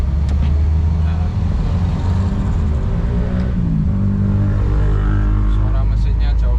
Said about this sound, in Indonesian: suara mesinnya jauh berkurang